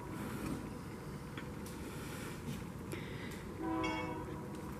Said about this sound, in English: Why is it every time we come up here, the train goes off?